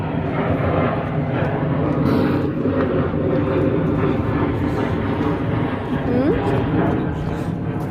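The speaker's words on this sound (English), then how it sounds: "So we can hear the planes." Continuous low roar of an airplane passing overhead on an airport flight path beside a bird sanctuary, steady and fairly loud, with faint voices mixed in.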